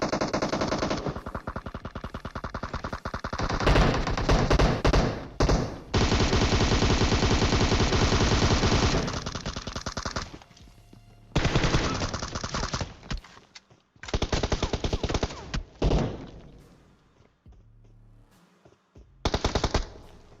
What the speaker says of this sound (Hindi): अब गोलियां चल रही है दबा के